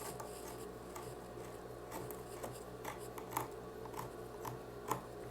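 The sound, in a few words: cutting patchwork fabric straight for a rug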